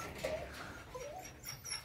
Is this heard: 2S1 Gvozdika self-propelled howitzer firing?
no